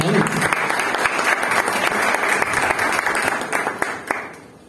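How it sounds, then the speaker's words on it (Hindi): A hall audience gives hearty applause at a tribute gathering, sustained clapping for several seconds with a voice briefly heard at the start, then fading out near the end. "पहले इनके लिए तो भरपूर तालियां बजाएं"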